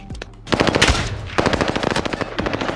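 Automatic gunfire in Call of Duty Warzone on Rebirth Island crackles in rapid, loud bursts, a short burst followed by a longer sustained stream of shots.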